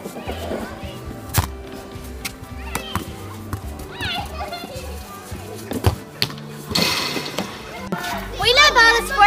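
Children playing outdoor sports such as netball, hockey and football on an Astro pitch at a school, with busy scattered shouts, chatter and thumps, a person speaking over the lively, moderately distant play.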